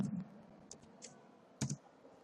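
Soft clicks from a computer keyboard, a few light taps followed by a slightly firmer double press near the end like the Enter key, in a quiet room with no talking.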